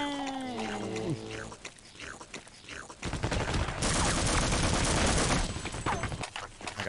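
Sniper rifle and other gunfire in the multiplayer video game Half-Life: Opposing Force, a few sharp shots early followed by a dense loud burst of firing, with voices talking over parts of it.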